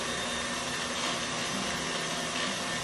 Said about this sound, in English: So we're just going to do one last KitchenAid. We're gonna do one last mixing